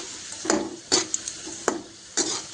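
Dried bitter gourd frying in hot oil in a pan, a steady close sizzle broken by several stirring scrapes and bubbling bursts at irregular intervals, with no voices.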